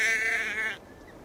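Sheep bleating in Assassin's Creed Valhalla: one long, wavering bleat rings out clearly for most of a second and then stops abruptly, leaving quiet background.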